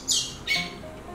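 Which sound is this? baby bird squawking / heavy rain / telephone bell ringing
baby bird squawking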